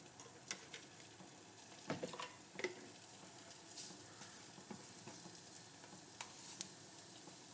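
Urad dal frying in a tablespoon of coconut oil in a pan, a steady soft sizzle with occasional sharper crackles and stirring scrapes, close by and alone.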